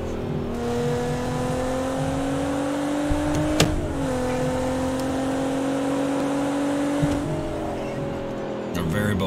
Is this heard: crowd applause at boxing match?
no